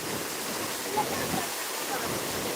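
A waterfall where people have come to bathe gives a steady, loud broadband rush of falling water that keeps an even level throughout, with faint splashes now and then.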